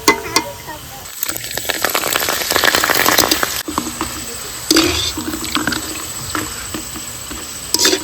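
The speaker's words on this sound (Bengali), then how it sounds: "পাঁপড়টা ভেজে নিই" A papad fries in a wok of hot oil, giving a busy, crackling sizzle like patter that swells and fades, while people talk over it.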